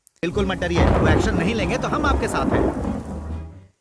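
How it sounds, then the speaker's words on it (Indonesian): Heavy downpour with a deep rolling thunderclap, loud and close, rumbling for several seconds before fading out. "di saat hujan yang turun dengan derasnya"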